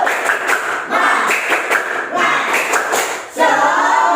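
A standing school class does a rhythmic spirit clap in a physical education lesson, several loud patterned bursts of group clapping with brief gaps and faint voices.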